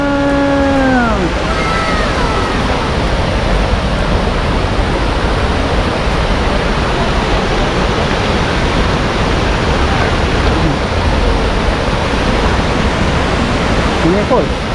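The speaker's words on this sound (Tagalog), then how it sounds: "Welcome to Bagungbong Falls!" Bagongbong Falls in Biliran, a loud, steady roar of falling water filling the whole scene, with brief faint voices at the start.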